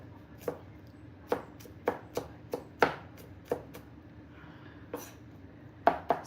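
A large, heavy knife chops food on a board in a kitchen, with sharp, distinct knocks coming at an uneven pace, sometimes in quick pairs, and brief pauses between.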